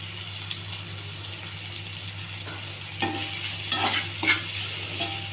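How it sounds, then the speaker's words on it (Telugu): A raw banana and tomato fry is stirred in a pan, with a spoon scraping and clattering in a few bursts over a low steady hum and faint sizzle, close up and with no voices. "కింద మాడిపోకుండా కలుపుకుంటూ ఉండండి."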